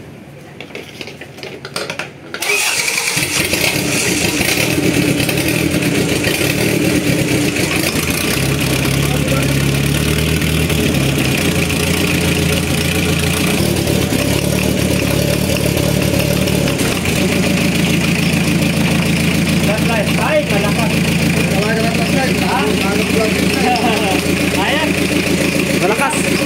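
A Mazda RF engine cranks on the starter and catches, then settles into a loud, steady rumbling idle that runs for over twenty seconds, heard close with occasional metallic clinks in the background.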